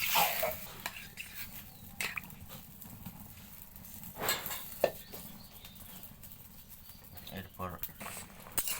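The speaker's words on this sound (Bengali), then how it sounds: "একটু নাড়াচাড়া দিয়ে দিব।" A spoon stirs an egg, potato and cauliflower curry in a pan after water has been added, giving soft, irregular scrapes and clinks over a faint simmer while someone talks quietly.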